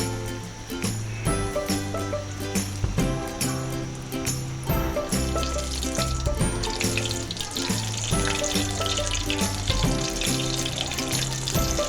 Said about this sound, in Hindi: अब हम अपनी चिप्स को फ्राई करेंगे।